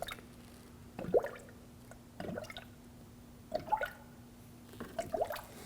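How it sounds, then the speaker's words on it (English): Coolant is poured through a funnel into the radiator of a 2013-2015 Subaru XV Crosstrek, giving a few soft, widely spaced gurgles and drips as air bubbles escape, quiet and close. "Continue filling until you don't see any bubbles and the radiator is full of coolant"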